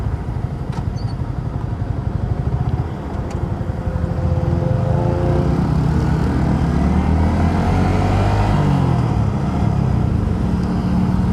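A Yamaha R15 V3 motorcycle engine, after a 25,000 km service, drones close and loud throughout, its pitch rising and falling in steady revving sweeps without any talking.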